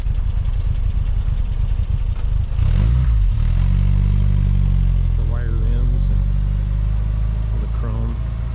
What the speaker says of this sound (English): We're gonna have Josh drive around in the parking lot here real quick before we go in the car